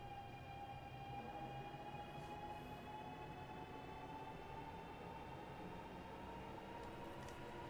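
A train under full throttle in Train Sim World 6, a continuous low rumbling drone with steady tonal whine lines above it, unbroken and even throughout.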